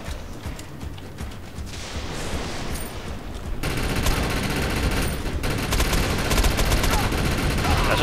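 Gunfire in the video game Defiance, dense rapid bursts of shots that run on without a break and grow louder partway through.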